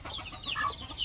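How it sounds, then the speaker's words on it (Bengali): Hens and small chicks kept penned at a village house give faint, high cheeping and soft clucks in short overlapping calls over a low background hum. "এখানে অনেক মুরগির বাচ্চা আছে,"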